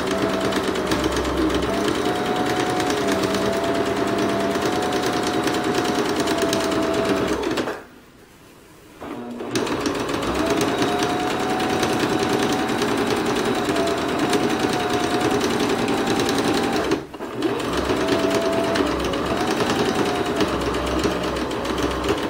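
A sewing machine stitches a straight edge along fabric for a pillow, a loud, close, rapid mechanical whirring hum that runs continuously, stops briefly near the middle, restarts and pauses once more for a blink, with no voices.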